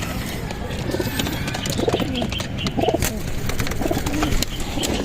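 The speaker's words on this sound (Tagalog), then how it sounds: "Ito yung young bird natin mga kalapatids." A young domestic pigeon coos softly in repeated low calls, fairly close, over a constant background hiss.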